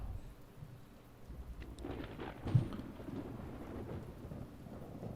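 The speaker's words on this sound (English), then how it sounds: "Uh-oh, looks like the rain is coming back." Rain falls steadily in the video game The Talos Principle while low thunder rumbles throughout, with one sharper, louder crack about halfway through; no one speaks.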